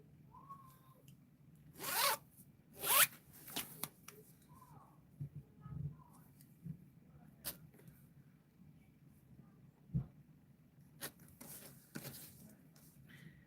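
Zipper on a zippered slip pocket of a bag, pulled in several short, loud zips with quieter rustles and handling noises in between, heard close up over about thirteen seconds.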